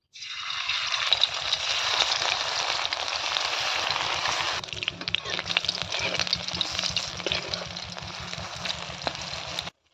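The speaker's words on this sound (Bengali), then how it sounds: "বড়াগুলো লাল লাল করে ভেজে নিয়েছি, তুলে নেব।" Pumpkin leaf fritters frying in hot oil, a loud close continuous sizzle and crackle with a steady bubbling undertone throughout.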